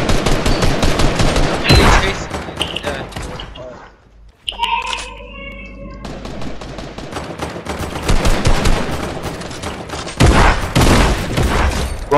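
Rapid bursts of gunfire in a Fortnite match, loud automatic rifle volleys with a short quiet gap midway, then more sustained firing and sharp bangs.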